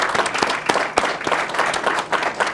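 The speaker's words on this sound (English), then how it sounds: "if we could give Diane a round of applause and thank you" Audience at a Pennsylvania statewide judicial candidate forum breaks into steady applause, a dense wash of many hands clapping in a room, sustained throughout.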